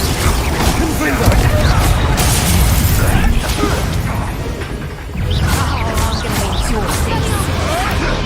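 Fire spell blasts explode amid dense combat in the Hogwarts Legacy video game, with loud booms and crashing impacts over continuous game noise, a voice speaking over the action.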